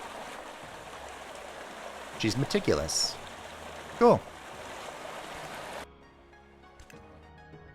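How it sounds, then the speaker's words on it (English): Loud flowing water rushes steadily in the video game My Lovely Empress. It is briefly overlaid by speech, then drops away abruptly near the end. "Man, that water is so loud."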